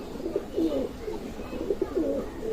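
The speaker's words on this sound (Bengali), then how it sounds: "গোল্ডেন কবুতর" Golden pigeons cooing close by, several soft rolling coos in a row at a steady rhythm, with no voices over them.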